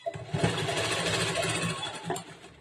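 A sewing machine stitches a seam along the edge of a princess-cut, boat-neck blouse, running steadily and fairly close for the whole stretch before easing off near the end, with no talking.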